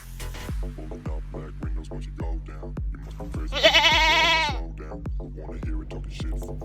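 A goat at a zoo (Nashville Zoo) gives a loud, wavering bleat in the middle, set against a busy background of rhythmic tapping and other animal noise.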